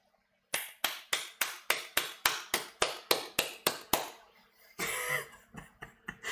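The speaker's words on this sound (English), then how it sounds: "now if I clap loads" A single person claps loudly and sharply about a dozen times at an even pace, each clap ringing briefly in a quiet room, followed by a short burst of rustling noise.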